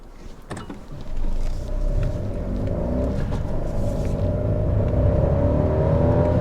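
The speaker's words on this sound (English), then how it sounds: "That was me revving it in second and third." Fiat Panda Cross TwinAir 0.9 two-cylinder engine pulling hard through second and third gear, a loud continuous rumble with steadily climbing pitch heard from inside the car after a brief clunk at the start.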